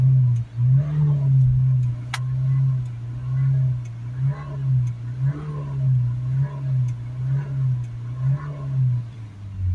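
Vauxhall Vivaro 1.6 diesel engine droning steadily with slight rises in pitch under repeated full-throttle acceleration, close and continuous, with no voices.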